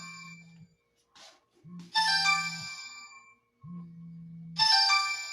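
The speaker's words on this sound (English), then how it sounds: "It looks like you're getting a phone call, Miss Jackson." A phone ringtone for an incoming call rings in a home interior decorator scene, a melodic electronic tone repeating in clear separate bursts, loud and close, with no talking over it.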